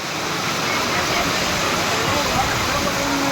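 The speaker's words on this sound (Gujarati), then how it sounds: "વરસાદની શરૂઆત થઈ છે" Rain begins to fall in a loud, dense, even hiss that holds steady throughout, close and unbroken.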